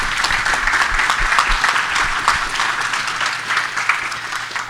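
An audience at an international mechanical engineering congress applauds the presenters, with dense, steady clapping that fills the whole stretch, fairly loud and continuous.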